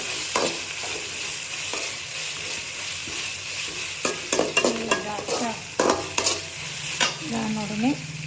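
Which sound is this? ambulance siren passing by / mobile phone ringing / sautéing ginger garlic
sautéing ginger garlic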